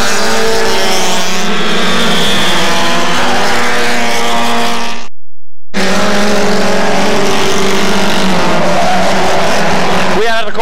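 Hot rod race cars in a 1996 Class 1 evening race roar continuously around the track, loud and near. The sound cuts out briefly midway, and a voice can be heard over the engines.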